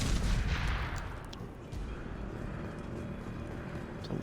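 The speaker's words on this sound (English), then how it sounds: "Someone shooting explosives at us." Explosive rounds and gunfire in the video game Mass Effect 2 form a dense, loud barrage at the start, then ease into a steady rumble of continuing combat with no talking.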